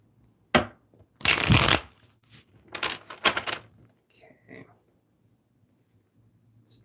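A tarot deck is shuffled up close: a sharp tap, then a long riffle, followed by several shorter shuffling bursts and light card handling tapering off into quiet.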